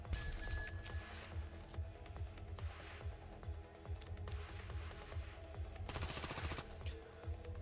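Gunfire from the stronger of two guns in the video game Reverse Collapse: Code Name Bakery, a faint run of rapid repeated shots with an irregular rhythm and a brief louder burst near the end.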